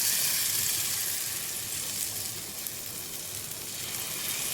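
Small sorghum flour uttapams frying on a hot pan, a steady, close hiss of sizzling batter that runs unbroken throughout with only slight swells in loudness.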